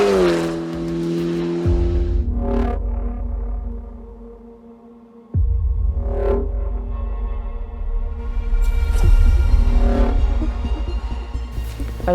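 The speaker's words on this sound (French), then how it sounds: "c'est une voiture utilisée dans le cadre du rallye jeune" A youth rally car runs close by with a loud, steady engine drone, a brief dip in revs, then a sharp return to full throttle and rising revs.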